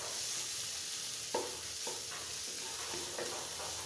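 Raw papaya bhaji with small shrimp stir-frying in hot oil, a steady close sizzle with a few soft scrapes of a spatula through the pan, no voices.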